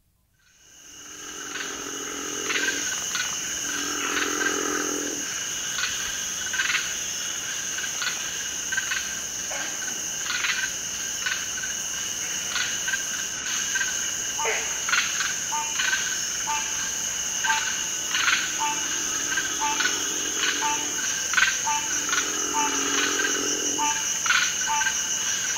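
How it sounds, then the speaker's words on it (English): Night chorus by a river of tree crickets trilling steadily, mixed with green frogs, green tree frogs, squirrel tree frogs, an eastern narrow-mouthed toad and the growling call of a river frog, some calling from the far bank, dense and continuous. "tree crickets outnumber the frogs, but green frogs, the green tree frog, the squirrel tree frog, and the eastern narrow-mouthed toad, the growl-like call of the river frog"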